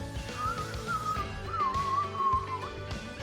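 A person whistles a wavering, chirpy tune imitating a small chick's peeping, in two sustained phrases, fairly close and clear.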